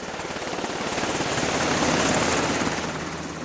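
A medevac helicopter in Afghanistan approaches with a loud, continuous rotor chop and turbine roar that swells steadily as it nears.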